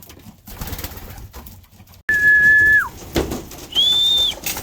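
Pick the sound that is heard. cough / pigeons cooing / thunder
pigeons cooing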